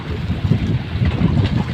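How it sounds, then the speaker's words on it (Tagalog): Sea waves slapping against the hull of a small fishing boat on open water, a continuous close rumbling wash with wind buffeting the microphone and no voices. "Inahampas kasi ng alon eh."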